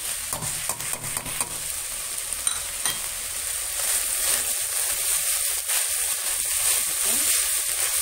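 Raw diced onion goes into sautéed peas in a frying pan. Clattering stirs come first, then the sizzle grows into a loud, steady hiss close by.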